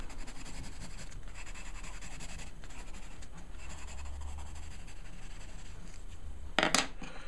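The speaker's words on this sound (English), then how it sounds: "Just give it a quick going over with the Crayola pencils." Crayola colored pencil scratching steadily across paper in quick back-and-forth shading strokes, close and soft, with a brief louder scrape near the end.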